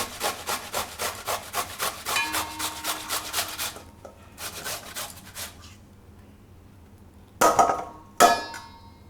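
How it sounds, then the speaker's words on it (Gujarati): Tomatoes grated by hand on a kitchen grater, a quick series of rhythmic rasping strokes up close, then a pause and a couple of louder clattering scrapes near the end. "તો ટમેટાં આપણે છીણી લીધા છે."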